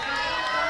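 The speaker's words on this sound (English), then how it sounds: "it's pretty easy to hear the Chattanooga fans who have taken up residence directly behind us" Chattanooga fans cheer and shout as a dense crowd roar at a roller derby game, loud and continuous through a very brief moment, with voices mixed into the noise.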